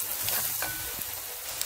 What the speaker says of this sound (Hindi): तो इसे हम 1 मिनट तक फ्राई कर लेते हैं, और हमारा ये प्याज भी गोल्डन ब्राउन हो ही चुका है।